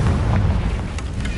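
A Confringo fire spell exploding in Hogwarts Legacy: one short, loud, deep blast with a rumbling low end and crackling debris, close and filling the moment.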